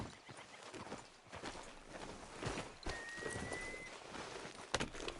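Horse hooves clip-clop at a walking pace in Red Dead Redemption 2, steady and moderately close amid outdoor ambience, with a brief whinny-like tone and a few sharper hoof strikes.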